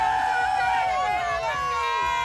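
Thousands of skiers and snowboarders crowding Copper Mountain on opening day, a dense murmur of many voices with bustle and some music-like tones, heard as a constant wash close by.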